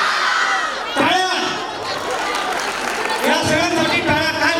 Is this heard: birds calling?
no